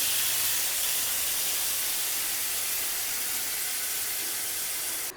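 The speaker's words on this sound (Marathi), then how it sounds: "आता मी या पॅनमध्ये टाकून घेते बघा आणि हा अगदी अगदी बारीक गॅसवरती आपल्याला छानपैकी फ्राय करून घ्यायचा आहे" Chicken sizzles in a pan over a very low gas flame, giving a steady, even hiss throughout without pause, with no talking.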